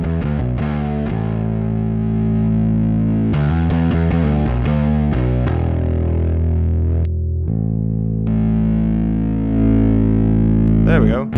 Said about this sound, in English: Kicking the fuzz on.